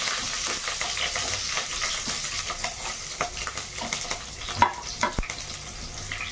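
Green chillies fry in a pan with panch phoron, heading into a cabbage curry, under a moderate sizzle marked by frequent scraping stir strokes and sharp clinks.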